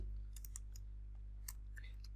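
Sparse, faint clicks of a computer mouse during work in 3D modelling software, a few scattered light taps over a low steady hum, with no talking.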